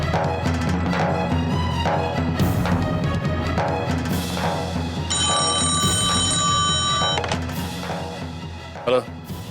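A telephone rings in a continuous electronic trill over a busy background of music and voices, fairly loud and sustained.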